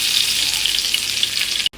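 Shallots frying in hot oil for a Kerala-style dal curry give a loud, dense, continuous sizzle up close, broken only by a brief cut near the end, with no voices.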